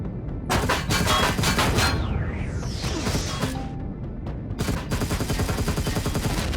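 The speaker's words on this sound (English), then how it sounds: "That's going to pop out a gun turret" Gun turret firing in Empyrion Galactic Survival, a loud rapid fusillade of shots with booming impacts and a sweeping whoosh midway, continuing dense to the end.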